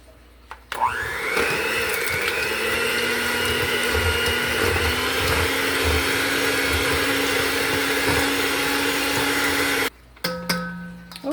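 An electric mixer beating cake batter with butter and cream cheese for a kiwi cake, a loud steady motor whine starting abruptly, running nearly ten seconds, then cutting off before a brief restart.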